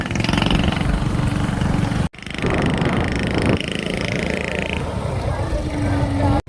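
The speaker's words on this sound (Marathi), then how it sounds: "ट्रॅक्टरचा आवाज आलाय." A tractor engine runs steadily near an orchard where pesticide is being sprayed, a continuous low mechanical drone with voices talking over it and a brief break partway through.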